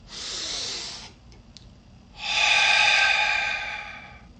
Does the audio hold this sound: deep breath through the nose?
yes